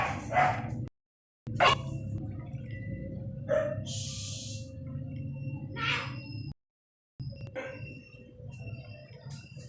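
Several dogs bark and yip in short bursts, some close and some farther off, with brief whining between barks and a couple of sudden silences.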